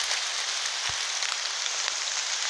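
Steady rain patters and hisses on surfaces all around an abandoned building, an even wash of drops with a single soft thump partway through.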